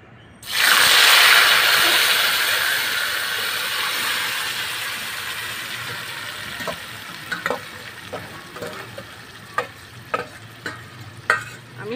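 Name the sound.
lote fish frying in hot mustard oil in a wok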